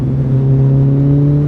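A Kawasaki ZZR1400 motorcycle engine holds a steady, loud hum with strong low harmonics as it starts to pull under acceleration, close and without talk.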